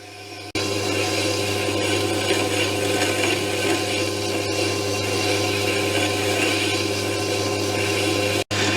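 A chisel ground on a sharpening machine gives a steady, loud motor whir with a broadband grinding hiss, running continuously with a brief dropout near the end.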